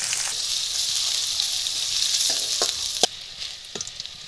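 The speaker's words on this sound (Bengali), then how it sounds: "মশলাগুলো তেলের সাথে বাদামি করে ভেজে নিব।" Cumin, bay leaf, chopped garlic, chopped onion and dried chillies fry in hot oil as the tempering for red lentil dal, making a steady, loud, close sizzle with a few clicks of stirring near the end.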